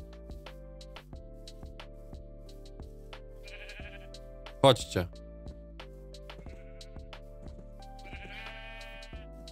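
Minecraft sheep bleat a few times amid steady background music, with a brief loud burst in the middle and someone speaking briefly.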